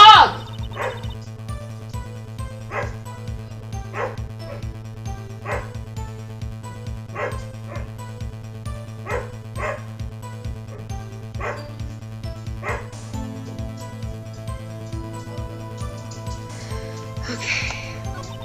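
Short, repeated digital dog barks from the Phoenix Wright: Ace Attorney video game, evenly spaced yips over a steady electronic music loop, with a voice near the end.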